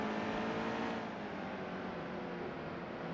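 Race car engine in the NASCAR Heat 2 racing game held under throttle, a dense, steady broadband roar, loud at first and easing slightly after a second, with no voices.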